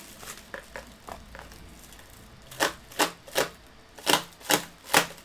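A utility knife cuts through tough unboxing packaging in a series of sharp, close scraping strokes, a few light ones followed by five louder, evenly spaced cuts, with no talking.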